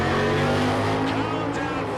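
Drag race cars, a Chevrolet and a Mustang, roar together in a loud, dense, sustained engine drone with strong low harmonics, close and steady throughout.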